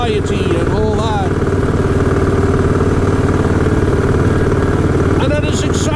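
A motorbike engine drones steadily while riding, loud and continuous throughout, with someone talking over it.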